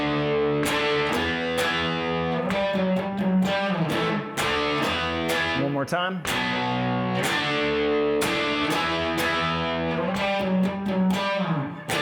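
Distorted electric guitar plays a beginner-level power chord riff, loud and continuous with repeated chugging chord stabs and brief pauses, alone without talk.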